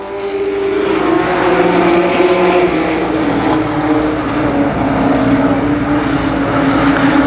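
Race cars circling the Columbus Motor Speedway oval during a 1991 race, a steady loud engine drone with shifting pitch as cars run down the backstretch, continuous throughout.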